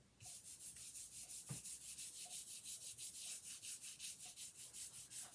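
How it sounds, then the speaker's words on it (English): Paper scraps are rubbed firmly down onto a card in steady back-and-forth strokes, about two per second, giving a close, papery swishing that continues the whole time with no talk. "I'm going to turn it over and give it a little back rub"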